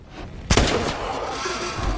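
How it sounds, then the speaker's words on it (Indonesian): A single sharp gunshot fired at a strange creature in a film, a loud near crack followed by a rumbling, echoing tail over dense background sound. "Saat itu juga Luke langsung menembak makhluk aneh itu."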